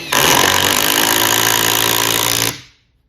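A Milwaukee or Metabo HPT power drill runs at full speed, one loud, close, steady whine lasting about two and a half seconds before spinning down abruptly.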